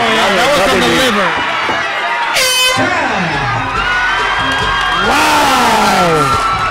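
A big MMA crowd rises to its feet and cheers loudly throughout a women's fight, with whoops and sustained roaring, an air horn blasting briefly mid-way, and commentators talking over the noise.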